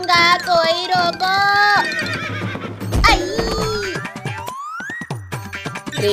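A mare neighs loudly in a long, wavering whinny, then runs off with scattered hoof clatter and comic boing effects, while voices call out briefly.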